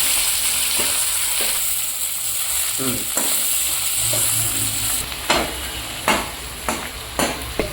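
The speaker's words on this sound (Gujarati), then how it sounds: "બટાકા તળાય છે હવે આપણે" Steady loud sizzle of potatoes frying in oil, with a few stirring scrapes and clinks toward the end.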